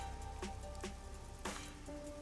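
Steady rain ambience from the Master Detectives Archive Rain Code video game, a constant soft wash of falling rain in a neon-lit city district, with faint tonal game music and a few brief chime-like accents.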